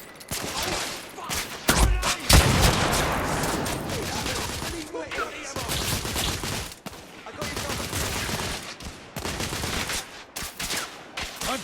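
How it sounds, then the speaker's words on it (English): Gunfire in The Order: 1886 during a heavy firefight, with bursts of rapid automatic shots and louder single blasts crackling continuously through the scene, under shouted voices. "I'm taking suppressing fire!"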